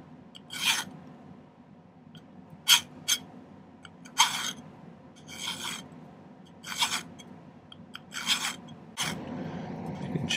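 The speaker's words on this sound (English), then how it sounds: "by just filing more on either side" A hand file cuts a notch in silver wire for a bracelet in short separate bursts of scraping, about eight strokes spaced roughly a second apart, close and clear against a quiet background with no talking.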